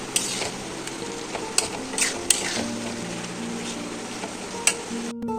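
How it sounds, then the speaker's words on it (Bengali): Pointed gourd (potol) being fried and stirred with spices in a pan, giving a steady soft sizzle broken by occasional sharp scrapes and clinks of a utensil against the metal, close and alone. "তো এখন পটলটাকে খুব ভালো করে কষিয়ে নিতে হবে সম্পূর্ণ মশলাটার সাথে।"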